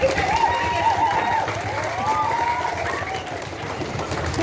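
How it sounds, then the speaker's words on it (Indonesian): A crowd claps and cheers together at an elementary school classroom renovation inauguration, steady applause mixed with voices and some shouting, fairly loud and continuous. "Kita beri tepuk tangan untuk Bapak kita."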